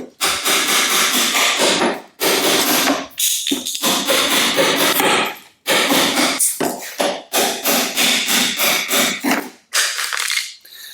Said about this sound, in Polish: Pewnie zastanawiacie się, po co mi dłutko i młotek.